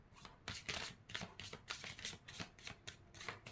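Tarot cards being shuffled by hand in a rapid run of crisp riffling bursts, close and clear with no talking over them.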